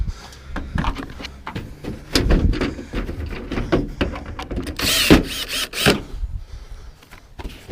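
Small screws being driven back into an appliance casing while scrapping discarded electronics, with scattered clicks, ratcheting turns and a few sharper metallic knocks, close up with no talking.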